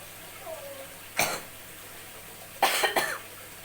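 Two brief coughs, one single and then a quick double, stand out against quiet background hiss.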